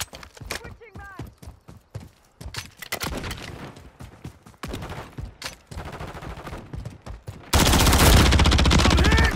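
Gunfire in a military shooter video game comes in rapid bursts and single sharp shots, mixed with other game sounds and voice chatter. It ends in a loud, dense fusillade.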